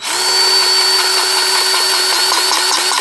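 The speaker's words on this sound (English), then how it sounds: "here's the DeWalt with the lock and lube" DeWalt cordless grease gun with a lock-and-lube coupler running steadily on a TYM 2515H tractor fitting, a loud continuous motor whine lasting throughout with faint rhythmic pumping pulses beneath.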